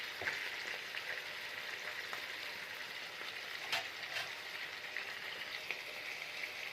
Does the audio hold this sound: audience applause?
no